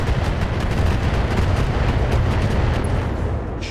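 Turrets in the video game Battletech fire continuously, filling the air with a dense, loud roar of heavy weapon blasts and rumbling impacts that never lets up.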